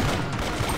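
Rapid gunfire from the mobile video game Brawl Stars, a short, loud burst of dense shots filling the moment with no talking.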